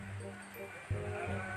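Sheep bleat in a rural setting, a couple of wavering calls close by, with a voice heard alongside them.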